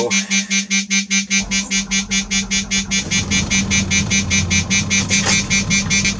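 A vehicle's engine cranks and catches, settling into a steady rumbling idle, while a rapid pulsing electronic warning beeps loudly throughout, up close.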